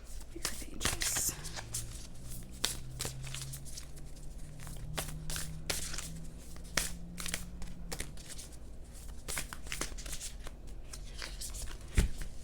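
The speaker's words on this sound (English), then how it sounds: "This is a little harder to shuffle." Tarot or oracle cards being shuffled by hand, a steady run of crisp riffles and soft slaps close up, with a low hum underneath throughout.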